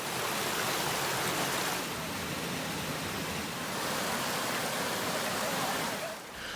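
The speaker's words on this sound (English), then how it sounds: "There is one main creek that follows the path of the gorge." The main creek running through Wintergreen Gorge rushes in a loud, continuous wash of water, heard up close and steady throughout with no talking.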